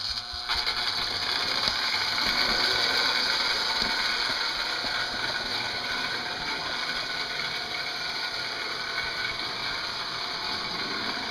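A British Marx 2509 Silver Link A4 clockwork toy locomotive, with freshly oiled wheels and axles, whirs continuously as its wound motor runs, a steady fine ratcheting buzz heard close and alone.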